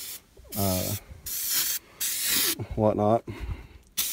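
Gunk original-formula engine degreaser sprays in two hissing bursts onto a Jeep Cherokee XJ engine, loud and close, with someone talking between and over them.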